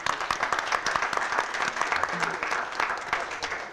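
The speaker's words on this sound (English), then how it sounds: "let's give Ruth Cummings a round of applause" An audience at a public conversation in Selma applauds for Ruth Cummings, a steady crackle of many hands clapping, fairly soft and close, lasting a few seconds.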